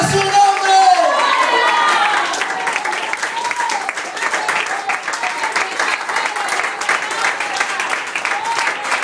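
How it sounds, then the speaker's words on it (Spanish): A congregation at a church building inauguration in Springdale, Arkansas, breaks into sustained applause with scattered cheers after a brief voice at the start, the clapping holding steady to the end. "Denle palmas a Dios."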